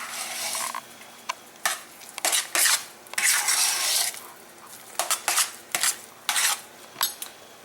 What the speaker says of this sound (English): Now, I'm going to give it a little bit of a stir,